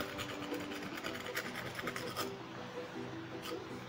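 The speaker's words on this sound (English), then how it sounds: "we're gonna grate our nutmeg in" Whole nutmeg rasped over a grater into a pot of plantain porridge, a steady close scraping texture with quick rhythmic strokes and no talk.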